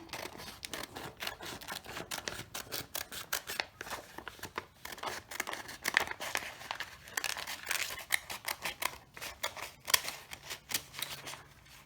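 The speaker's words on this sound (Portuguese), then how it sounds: "Depois, é só recortar, né? Vamos achar a tesoura." Scissors snip through a paper pattern for a chevron-and-lace shirtdress, a steady run of sharp, close clicks and crisp paper crinkles, quiet and continuous with no voice over them.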